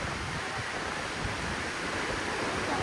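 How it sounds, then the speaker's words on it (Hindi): Steady rushing flow of river water where the Alakananda and Bhagirathi rivers meet at Devprayag, a continuous broadband roar with no break, heard alone at moderate level. "जो पानी के बहाव की जो आपको आवाज़ सुनाई दे रही है,"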